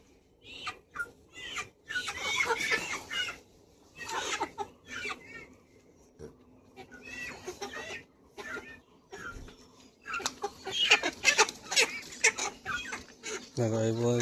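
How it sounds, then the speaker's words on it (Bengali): Chickens cluck in repeated short bursts at a farm sale of broiler birds, close and fairly loud, with people talking among them throughout. "সেই মুরগি বিক্রি হচ্ছে কীভাবে দেখো"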